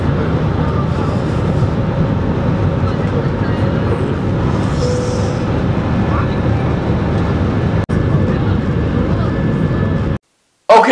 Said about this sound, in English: Plane needs to go faster.